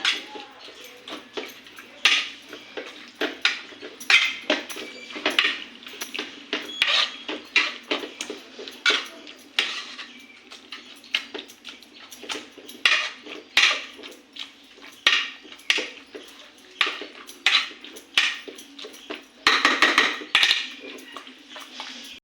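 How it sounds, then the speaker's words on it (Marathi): A masher pounds and scrapes cooked pav bhaji vegetables in a pressure cooker pot, giving repeated squelchy mashing strokes with metallic clinks against the pot in an irregular rhythm, close and clear, with someone speaking between strokes. "मॅशरने हे सगळं मॅश करून घेऊया"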